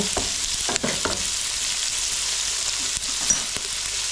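Tofu frying in a pan for sweet and sour tofu, a loud, steady hissing sizzle with a few brief stirring scrapes near the start.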